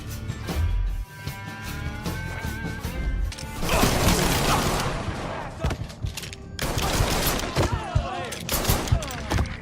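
Gunfire in a Mafia III video game shootout during the final boss mission: dense, loud volleys of shots and crashing impacts in near-continuous bursts, with voices heard in the mix.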